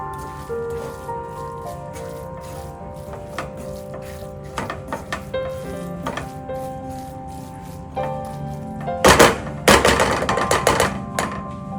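A spoon stirs cooked cabbage curry (sabzi) with fresh coriander in a pan off the heat, scraping and clinking in irregular bursts, with a louder cluster of knocks near the end over soft background music.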